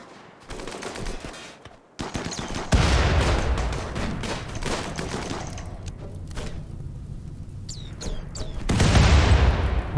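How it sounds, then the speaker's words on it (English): Doomsday and triple rocket launcher fire during a pirate fight in the video game Rimworld: rapid bursts of explosive cracks and thuds, layered blasts swelling into a heavy barrage, easing off, then a final loud burst of detonations. "I think we just saw them waste both a doomsday as well as a triple rocket launcher"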